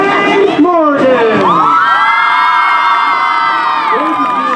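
Crowd cheering at a senior night ceremony, loud whoops and high shrieks from many voices, swelling into a sustained roar that stays strong to the end.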